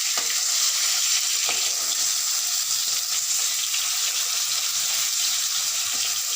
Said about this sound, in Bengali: এটা ভাজা হয়ে গেলে বাকি 3টে মাছ ভেজে তারপর রান্নাটা করব